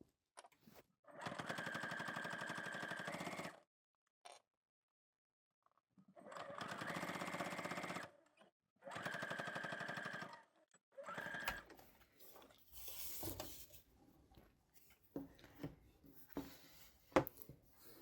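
A sewing machine stitches pressed pleather strap lining in three separate bursts of fast, even whirring, with pauses between them, followed by softer handling clatter and rustling.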